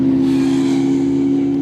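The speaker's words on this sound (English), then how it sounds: "through goes that McLaren over the start-finish line" A McLaren Artura GT race car crosses the start-finish line at Snetterton with a loud, steady engine drone, close and continuous with a strong low hum and no talk over it.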